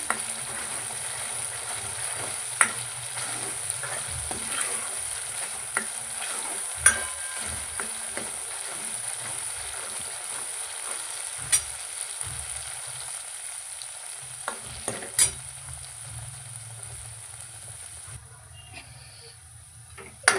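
Ground masala for Kolhapuri mundi paya fries in hot oil, a steady soft sizzle running throughout with occasional scrapes and taps of a stirring spoon against the pan, close by and without talk.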